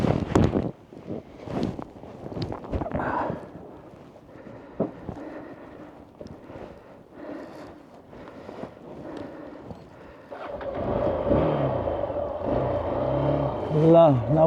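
A motorbike ridden on a mountain road in Nepal, recorded from a helmet camera: engine drone and wind buffeting under a rider's talk, the engine rising louder and rougher toward the end.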